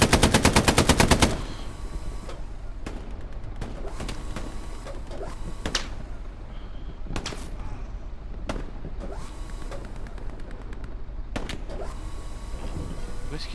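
Gunfire in the WWII shooter Hell Let Loose: a rapid machine-gun burst opens, followed by scattered single loud shots and distant reports over a constant battlefield rumble.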